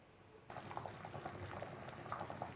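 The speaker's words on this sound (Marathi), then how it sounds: "हे बघा आपले शेंगुळे शिजत आलेले आहे" Shengole simmering in a pot on the stove, a steady close bubbling and popping of thick liquid that starts abruptly and continues evenly, with no talking.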